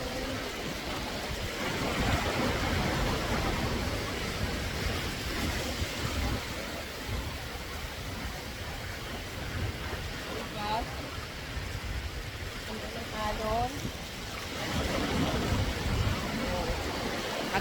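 Waves break and wash along a beach in Ras Al Khaimah, UAE, a steady broadband roar with swells in intensity, under a person walking and talking nearby.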